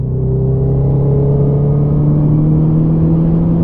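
A Honda CB650R motorcycle with an aftermarket exhaust hums at a steady, loud idle, its low drone rising gently in pitch throughout, with no talking.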